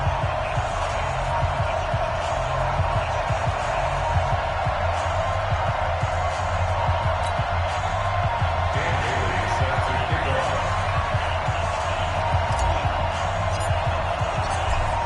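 Stadium crowd noise from an NFL video game matchup between the New York Jets and Baltimore Ravens, a steady dense roar with low rumble running unbroken throughout, no clear peaks or lulls.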